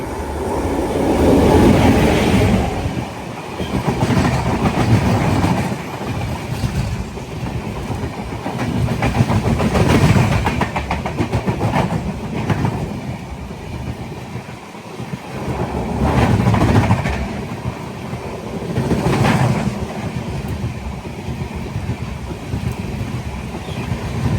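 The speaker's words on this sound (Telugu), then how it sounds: "అదిగో వచ్చింది బండి." Netravati Express train rolling into a station on the Konkan line, a steady loud rumble of wheels with clickety-clack rhythm building and fading over about twenty-four seconds, close by and with no talk.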